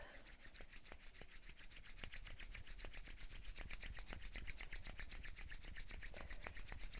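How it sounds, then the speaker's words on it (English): Hands rub together quickly in a fast, even back-and-forth rhythm, making a soft, close, dry swishing with many strokes and no talking. "rub your hands together faster, starting to really build some heat"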